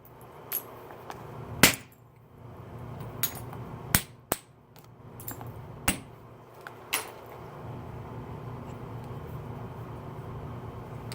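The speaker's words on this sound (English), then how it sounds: "Seems like this moose antler here doesn't want to work on this rock very well." Moose antler billet striking tough Esopus flint during knapping, a series of sharp, sparse clicks and cracks at irregular intervals, close and crisp over a quiet background.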